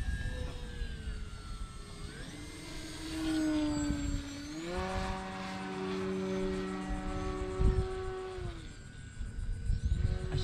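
A foam board RC airplane flying at full throttle gives a steady, loud motor whine with rising and falling harmonic pitch as it passes, swelling in the middle then easing off, with no talking.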